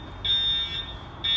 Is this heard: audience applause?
no